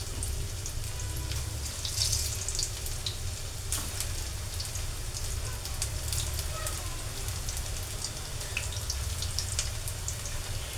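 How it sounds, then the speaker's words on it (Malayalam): Pakoda fritters frying in hot oil, a steady, quiet sizzle and bubbling with scattered sharp crackles and pops throughout. "ഇട്ട് ചൂടാക്കി ഫ്രൈ ചെയ്ത് നമുക്കിനി കോരിയെടുക്കാം"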